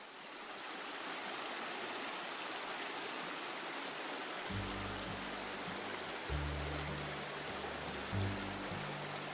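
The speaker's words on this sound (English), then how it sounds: "Right along the creek now." Creek water flowing steadily beside a wet forest trail in Coeur d'Alene National Forest, Idaho, a continuous close rushing wash with low rumbling thumps from footsteps or gear joining partway through.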